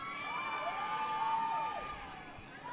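Spectators at a college softball game between Michigan and Oakland cheer and shout in a sustained crowd roar, with rising and falling whistle-like calls over the general noise.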